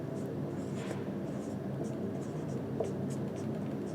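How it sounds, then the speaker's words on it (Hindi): A blue marker writing across a surface, soft scratchy strokes coming in short intermittent bursts over a steady low background hum. "मैं आप लोग को ब्लू मार्कर से लिख कर बताता हूँ"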